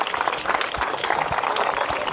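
Applause from a class of schoolchildren gathered beside the Narmada river in Jabalpur, a steady dense patter of many small hands clapping close by for about two seconds, with faint voices mixed in.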